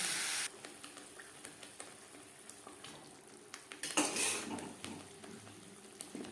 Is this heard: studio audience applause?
no